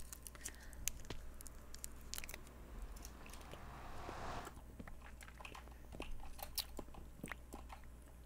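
Sour Warheads candy being chewed with crunchy, moist bites repeating steadily across the stretch, close to the mic over a low steady hum, no talking.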